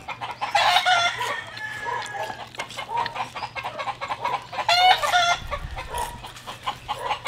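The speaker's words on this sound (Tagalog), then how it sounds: "Nagtitilaukan yung mga manok." Roosters crow and chickens cluck outdoors near an open-air cooking spot. The birds call repeatedly at moderate distance, with a low steady hum underneath and no speech.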